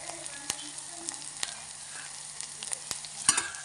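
Red masala, black garam masala and turmeric sauté in a pan with a soft, quiet sizzle, broken by a few sharp spoon taps and scrapes against the pan.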